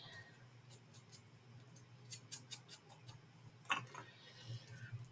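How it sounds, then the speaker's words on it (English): Scissors snip out a candy cane picture for a Christmas craft, a string of small crisp clicks in uneven bursts, quiet and close with no speech. "I'm just going to cut that out"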